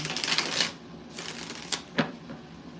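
Several quick riffling bursts of tarot cards being shuffled, close and crisp, separated by short pauses.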